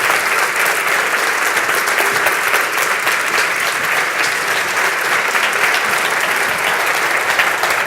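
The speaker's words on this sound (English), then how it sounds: "I'd like you to give a big applause to Bill Whelan" Steady, dense audience applause fills the room at a conference, many hands clapping loudly and evenly throughout without letting up.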